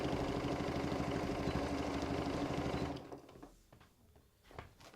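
A Janome sewing machine double-stitches a quilt blanket, humming fast and steady up close for about three seconds before stopping, leaving faint handling noises.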